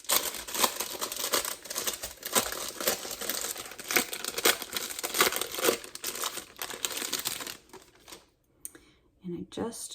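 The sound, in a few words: crinkling plastic wrapper of pie crust dough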